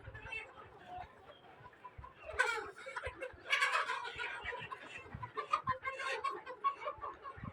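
Several layer hens cluck and squawk nearby in a poultry farm, overlapping and busy, with a louder burst of agitated clucking partway through.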